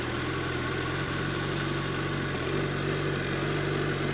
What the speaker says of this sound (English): You can hear the bike there.